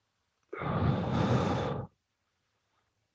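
A single deep, slow breath out during a guided meditation exercise, a long airy exhale lasting over a second, close and clear, followed by quiet.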